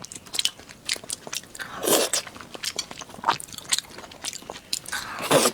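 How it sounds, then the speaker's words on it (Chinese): Steamed white pork with rice, topped with seasoning, eaten up close with crisp biting and steady chewing in repeated bursts and no talking. "今天吃个蒸白肉，配盖饭，撒点料"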